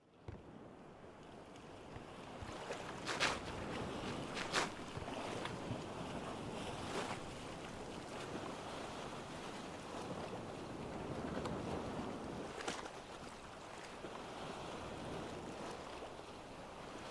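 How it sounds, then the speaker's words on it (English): Sailing boat gliding over ocean waves in a very hard permadeath survival video game, with a steady wash of water and wind noise throughout and occasional brief bright splashes or creaks, no voices. "and then we'll sail to Red Island."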